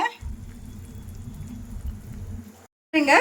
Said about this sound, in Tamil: குழம்பு நல்லா கொதிக்குதுங்க.